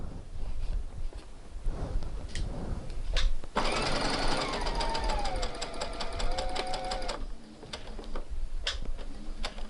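A domestic sewing machine runs a seam at 1.5 cm with back stitching at each end, a fast rattling stitch burst in the middle between quieter handling clicks and rustles.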